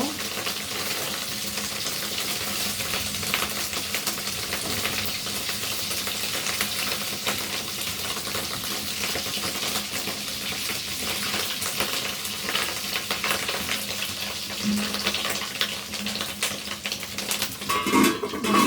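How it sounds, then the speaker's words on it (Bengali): Fish roe frying in hot oil in a pan, a steady loud sizzle and crackle that holds evenly throughout with no talk. "তেল গরম হয়ে গেছে, এখন আমি দিয়ে দিব মাছের ডিম"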